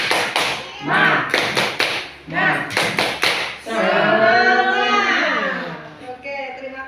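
Participants do the tepuk semangat chant: several bursts of rhythmic group clapping, close and loud, then voices shout the answer together in a long drawn-out call.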